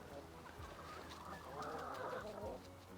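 Hens clucking softly in and around a new chicken coop, several birds making low, overlapping murmurs and short clucks at close range, fairly quiet.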